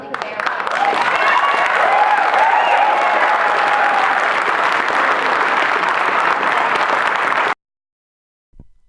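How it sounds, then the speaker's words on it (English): Sustained applause from an audience of more than 300 at a 2012 Fort election forum, loud and steady for about seven and a half seconds before stopping abruptly, with clapping and some crowd voices mixed in. "the crowd of more than 300 clearly favored PC candidate Jackie Fenske, who received the loudest applause at every stage of the evening"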